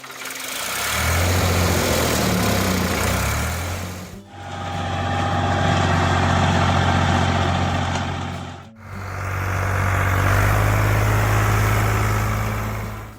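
A Ford 4000 three-cylinder farm tractor from the late 1960s or early 1970s runs steadily with a low diesel rumble. The sound comes in three sustained loud stretches with brief dips between them, and no talk is heard.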